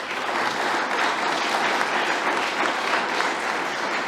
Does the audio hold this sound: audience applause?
yes